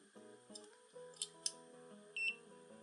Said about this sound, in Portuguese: Só que com o bip chato.